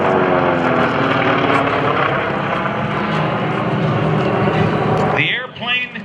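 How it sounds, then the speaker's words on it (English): A North American Texan propeller airplane, modified to resemble a Japanese Zero, drones loudly and steadily overhead at an airshow, its engine roaring with a throbbing tone, before the noise drops away and a voice begins speaking. "that aircraft is actually a North American Texan with a modified canopy and cowling"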